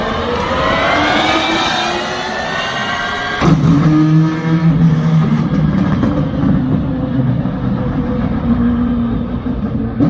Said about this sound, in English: Here's what it sounds like to switch from an electric motor to a combustion engine in the same car.